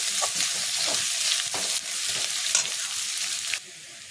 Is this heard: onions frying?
yes